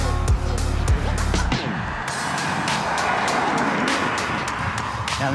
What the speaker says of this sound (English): Wait for the cars.